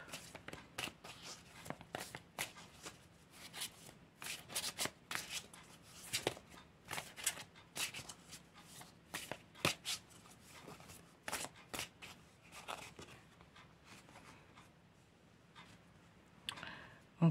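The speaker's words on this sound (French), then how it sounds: "Donc je vais battre les cartes." Tarot cards being shuffled by hand, a run of quick papery riffles and soft flicks with light clicks, close and fairly quiet, with brief pauses between bursts.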